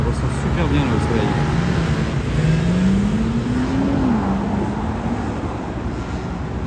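A Bentley GTC Speed accelerating from 0 to 100 on a Paris street, its engine note climbing steadily and then easing off, loud and close, with voices and background street noise mixed underneath.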